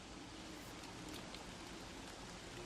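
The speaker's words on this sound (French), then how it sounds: "En plus, il pleut à fond" Steady rain pours down in the video game Don't Starve: Reign of Giants, a continuous, even, fairly quiet hiss of falling rain with no voices over it.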